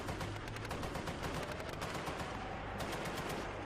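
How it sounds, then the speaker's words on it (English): Sustained automatic machine-gun fire from an infantry fighting vehicle's mounted gun during a combat assault, a dense, continuous clatter of rapid shots that stays loud and unbroken throughout. "the machine gun continues to fire to suppress them"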